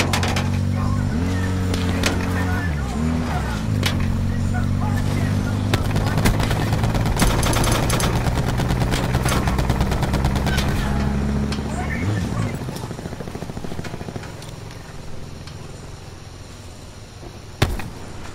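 Rapid bursts of gunfire crackle in Black Ops 4, alongside a low vehicle engine drone, with voices talking over the steady din of shots.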